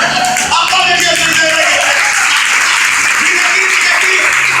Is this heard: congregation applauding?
yes